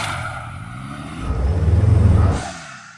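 A Porsche drives off-road on a slippery track, its engine straining and revving louder mid-clip as the tires struggle for traction, then easing off.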